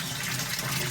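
Water is poured by the cupful into a home fish tank over stones, giving a brief, soft, steady splashing gush heard close but quiet.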